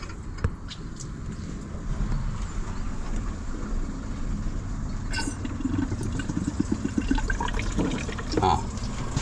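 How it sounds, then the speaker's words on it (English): Water runs steadily through an RV's fresh water tank and open taps during tank cleaning, a continuous rushing flow heard close and fairly loud throughout, with no talking over it. "I want to put some water through, then I'll close the taps off and top up the tank again"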